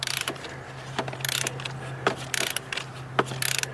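Ratchet wrench clicking in quick bursts as it loosens a spark plug from an engine during a plug and coil change, several short runs of close, crisp pawl clicks over a low steady hum.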